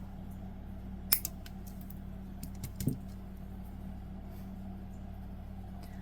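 Wire is snipped while making a wire-wrapped crystal mushroom necklace: one sharp, clear cut, then a few small clicks and a faint double snip amid a low steady hum.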